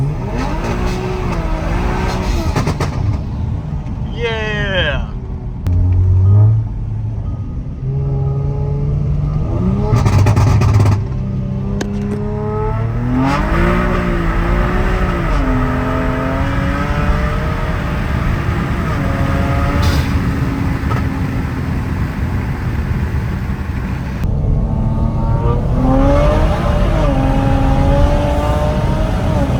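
A Kia car, suspected of a blown head gasket, accelerates at full throttle in sport mode, its engine note climbing loudly through rising revs with brief gear-change dips, close and dominant, with one short spoken word.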